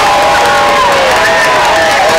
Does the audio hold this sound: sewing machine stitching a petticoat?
no